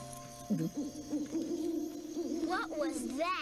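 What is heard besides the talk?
owl hooting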